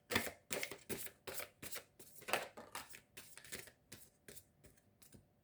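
Tarot cards being shuffled for a six-card spread, a rhythmic series of about fifteen crisp riffling bursts, close and fairly quiet, with no voices.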